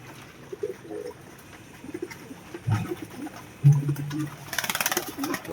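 Pigeons cooing in a loft: soft, low, throaty coos at close range, broken into short bursts among light rustling and fluttering, with a quick patter of wings or feet near the end.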